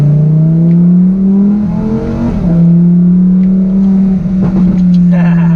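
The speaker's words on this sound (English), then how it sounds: "Let's throw the car in sport for right now, and we are off in the 2020 Huracan Evo rear-wheel drive" A rear-wheel-drive 2020 Lamborghini Huracan Evo accelerates in sport mode, its engine a loud steady drone heard from the cabin that dips and rises through gear changes, with faint clicks and rattles near the end.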